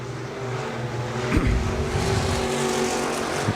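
Stock cars and modifieds racing at Park Jefferson Speedway, their engines roaring loudly in a dense pack, one car surging past close by midway, with tire noise under the steady drone.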